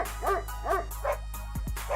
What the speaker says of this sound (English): Dogs are barking at him now.